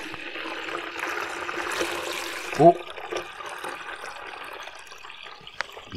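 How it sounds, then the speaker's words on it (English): Water pouring into a 5-litre jug at a children's history event: a steady, moderately loud stream with a brief splash partway through as the flow changes, while a person briefly exclaims. "5 litres of water into the 5-litre jug."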